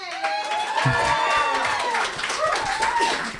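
An audience at a presentation cheers and claps together, crowd voices rising in whoops and shouts over dense clapping, loud and sustained throughout.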